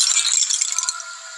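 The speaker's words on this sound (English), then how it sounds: "use our hammer on the large tube to break it" A hammer breaks a large tube in the game The Past Within, giving a loud, bright shattering rattle of fragments that fades over about a second.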